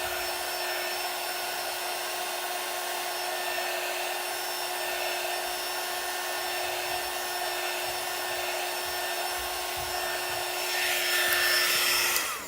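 A hair dryer blows steadily on chalk paste drying on a Chalk Couture craft board, giving a constant whirring hum with a high whine, close and loud. It strains slightly harder near the end, then cuts off.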